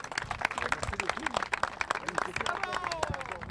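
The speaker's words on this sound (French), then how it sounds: "Bonne main d'applaudissements pour Gaétan Pelletier, mesdames et messieurs." An audience claps for sculptor Gaétan Pelletier in a dense, lively burst of applause mixed with crowd murmur, while a voice speaks over it.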